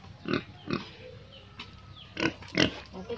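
A pet pig grunts in several short, close bursts, two quick grunts then a pause and two more, with faint background noise between them.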